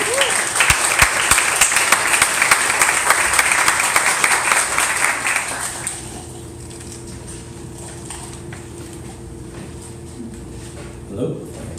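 An audience at a poetry reading breaks into loud, dense applause, which carries for about six seconds before dropping off to quiet room tone with a brief murmur near the end.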